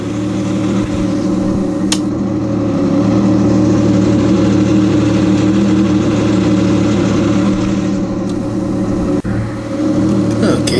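A 2017 Yamaha WaveRunner VX Deluxe personal watercraft engine runs loud and steady with a deep rumbling hum, punctuated by a couple of brief clicks and a short dip in level.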